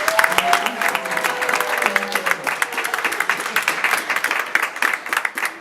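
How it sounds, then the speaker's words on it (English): Audience applause for volunteers at a hypnotist show for a high school graduation event, dense clapping from a crowd throughout, steady and fairly loud with scattered sharper claps. "Please give me a round of applause for these volunteers."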